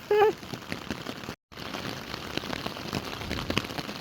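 Steady rain falling outdoors on a mountain hike in Snowdonia, a dense patter of drops on surfaces and gear, close and continuous with a brief dropout.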